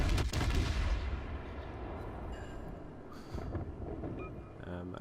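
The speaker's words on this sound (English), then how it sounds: "I opened up with guns on the Myogi because he's only at 2400 health" Heavy naval gun salvos boom from a battleship firing at the Myogi in World of Warships, a loud low blast at the start rolling into a sustained rumble, with later shot bursts and brief voice-like game sounds over the din.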